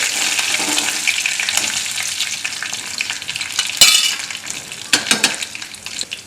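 Curry leaves, cinnamon, cloves and star anise roasting in hot oil for a sweet-sour white buttermilk kadhi, a steady crackling sizzle with occasional sharper clinks and scrapes of a spoon stirring, no voices.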